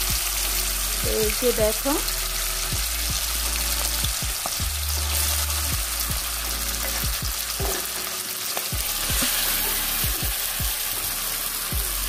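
Marinated pigeon meat sizzles steadily as it fries in hot oil, with spatula stirring and scraping clatter in the pan and a person talking briefly nearby.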